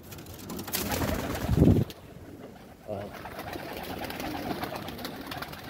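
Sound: pigeons cooing in a pigeon loft

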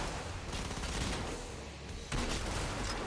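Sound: weapon alt-fire gunshots in the video game Killing Floor

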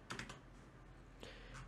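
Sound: typing on a computer keyboard

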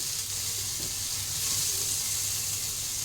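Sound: jackfruit seeds frying with potatoes in oil

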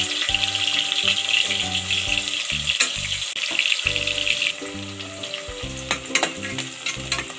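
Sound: onions frying in oil in pressure cooker

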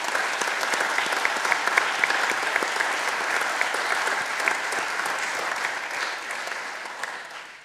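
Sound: applause in an assembly session

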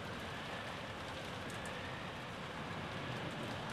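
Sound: rain falling, from a video game

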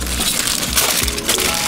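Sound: aluminum foil being wrapped around a vegan roast

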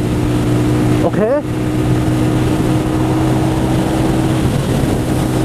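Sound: motorbike engine while riding

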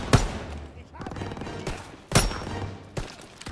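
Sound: gunfire in the video game Call of Duty: WWII

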